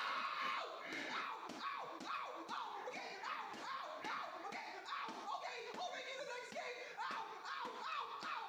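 Cartoon screaming from an animated John Cena and Angry Birds episode: a continuous, loud, strained yelling voice with rhythmic bursts, dense and sustained throughout.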